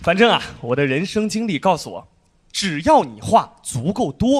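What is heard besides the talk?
No distinct noise like a dog, phone or traffic.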